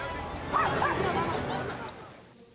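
Dogs in the crowd at a Diamondbacks baseball game let out a couple of high yips and whines over crowd chatter and voices, fairly faint and distant.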